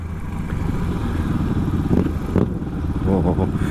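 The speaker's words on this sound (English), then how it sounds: "they do sound really good, them, with no baffling and a nice exhaust" Big motorcycles with unbaffled exhausts ride past a smaller 250 bike, their engines thumping and rasping loudly with a couple of sharper rev surges.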